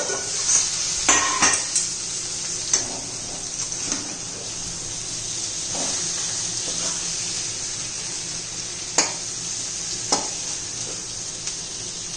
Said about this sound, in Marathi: पुन्हा एकदा हलवून घेऊया.